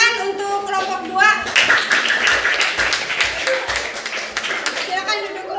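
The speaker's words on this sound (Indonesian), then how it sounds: "Beri tepuk tangan untuk kelompok 2." Students in a Grade 7 classroom applaud a presenting group, a dense burst of clapping from a close crowd of hands running for several seconds after a voice, with children's chatter mixed in at the end.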